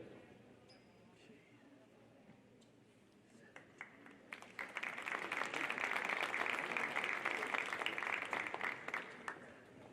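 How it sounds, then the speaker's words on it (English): A crowd breaks into sustained applause in a school gym at a high school basketball senior night. The clapping swells in about four seconds in and stays dense and steady to the end, after quieter speech from the announcer. "Let's give them one more round of applause."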